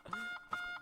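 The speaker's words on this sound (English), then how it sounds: "It's my EMF detector." An EMF detector in the video game Satisfactory gives two short, quiet electronic beeps in quick succession.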